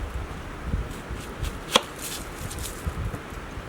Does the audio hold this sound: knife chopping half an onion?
yes